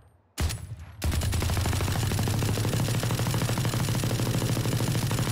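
An automatic rifle in Valorant fires a short burst, pauses briefly, then lets loose a long, fast, continuous stream of loud, evenly spaced shots.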